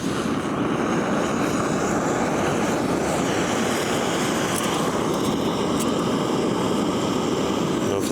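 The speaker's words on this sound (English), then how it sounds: "Oh, I can hear the gas." Camping gas stove burner hissing steadily after being lit outdoors, a loud, constant broadband rush that holds without a break for the whole stretch.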